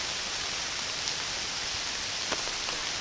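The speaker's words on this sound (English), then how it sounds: "Drive all this way, and then it rains." Steady rain falls outdoors during an opening-day archery hunt, making a constant hiss of drops on surfaces with a few slightly louder individual drips, with no voices.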